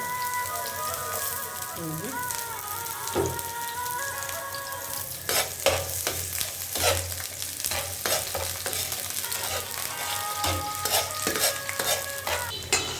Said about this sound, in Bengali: এই যে আমরা আস্তে করে এই দিয়ে দিলাম পেঁয়াজ, কাঁচা লঙ্কা।